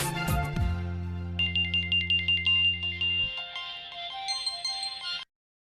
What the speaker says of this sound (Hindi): अर्जुन, तुम फोन करो, मैं तुम्हें बाद में बताऊंगी, प्लीज